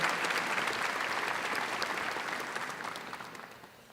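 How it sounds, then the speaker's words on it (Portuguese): A church congregation applauds the Gospel during Mass, a steady wash of many hands clapping close and full that gradually tapers off toward the end. "Vamos aplaudir o Santo Evangelho."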